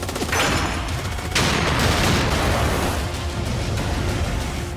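Gunfire in a film scene, a dense continuous volley of shots layered over a loud wash of noise, with bursts swelling and fading throughout.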